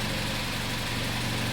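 A car engine idles steadily during a crankshaft sensor test, a continuous, even low rumble with a constant hum and no changes in pace.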